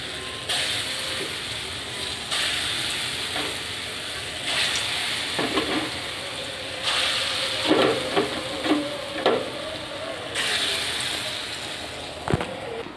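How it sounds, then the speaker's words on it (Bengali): Pea lentil fritters frying one by one in hot oil, a steady sizzle broken by intermittent scraping and clattering of a utensil against the pan, no voices. "এবার আমি মটর ডালের বড়াগুলো একে একে ভেজে দেব।"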